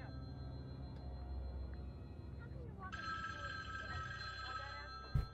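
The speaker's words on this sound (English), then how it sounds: "Where's the phone?" A telephone rings in a Halloween fan-made video game, its bell tone steady and clear from about the middle of the clip onward, playing over game ambience and a voice talking.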